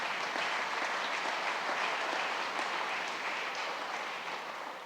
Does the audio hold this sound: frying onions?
no